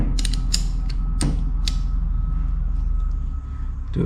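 A spanner working a CV boot clamp tool on a 2007 Toyota Hilux drive shaft gives a few sharp metallic creaks and ratchet clicks close by over a steady low hum, with no talk.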